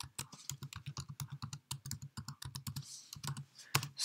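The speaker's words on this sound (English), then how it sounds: "again type in net user and then administrator" Keys clatter on a computer keyboard in a fast, steady run of close, crisp taps, punctuated by a few heavier strikes, while a command is entered on a Windows PC. No voices are heard.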